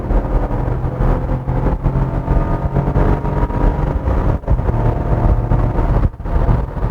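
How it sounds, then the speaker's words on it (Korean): Three-cylinder engine of a 2026 Chevrolet Trax Crossover revving hard under acceleration, heard from inside the cabin as a steady, raspy drone with a brief dip toward the end, loud and without talk. "3기통 특유의 칼칼한 엔진음은 어쩔 수가 없습니다."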